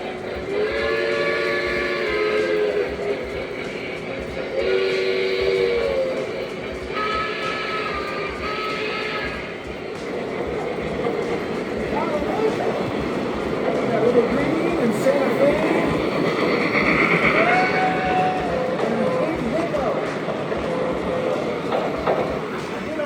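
Several toy train whistles sound in short repeated bursts, followed by clattering rolling-stock noise and people chatting in the background.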